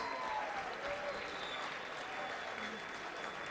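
A boxing arena crowd at an ESPN Friday Night Fights bout applauds the two fighters, a faint, distant, continuous wash of clapping under an announcer's amplified voice.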